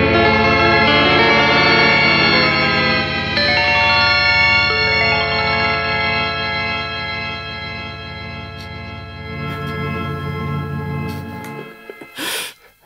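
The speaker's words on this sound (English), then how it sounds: "Whenever somebody says the word Rainbow Machine, probably the first sound that goes through your head is this." An EarthQuaker Devices Rainbow Machine effects pedal produces a weird, warbling ambient tone, stacked shimmering harmonics that bend and slowly fade, followed near the end by brief glitchy bursts and a sweeping noisy swell.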